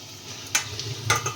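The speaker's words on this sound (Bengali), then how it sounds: "তো এইভাবে সবগুলোকে ফ্রাই করে নিই" Leaf fritters frying in hot oil in a home kitchen, a low steady sizzle broken by two sharp stirring or utensil clinks, close and without talk.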